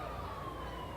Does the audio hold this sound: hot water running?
no